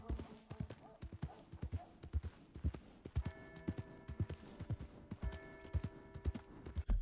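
Horse hooves clip-clop in Red Dead Redemption 2, a steady run of close, distinct hoofbeats that continues throughout, with soft in-game music tones underneath.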